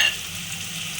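Ginger paste fries in hot oil, giving a steady close sizzle with a soft stirring hiss and no voices.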